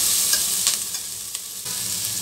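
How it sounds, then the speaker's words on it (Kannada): Masala of ginger and spices frying in a pan, with a steady close sizzle and soft scraping stirs throughout, no voices. "ಇದನ್ನೆಲ್ಲ ಚೆನ್ನಾಗಿ ಫ್ರೈ ಮಾಡ್ಕೋಬೇಕು"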